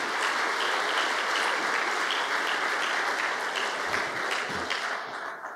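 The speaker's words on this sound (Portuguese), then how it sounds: "Uma salva de palmas para o presidente Lula por essa decisão." An audience applauds President Lula at a public address, a continuous, even wash of many hands clapping from a distance, fading slightly at the end.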